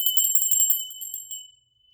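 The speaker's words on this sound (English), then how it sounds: "We're going to ring the bell in 3, 2, 1." A bright, high bell is struck several times in quick succession, then rings on with a clear metallic tone that fades out within about a second and a half. The bell is close and loud.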